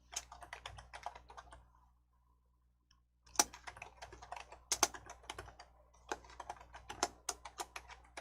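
Fingers typing on a computer keyboard in short bursts of crisp, close clicks, with a near-silent pause before a faster run of keystrokes resumes.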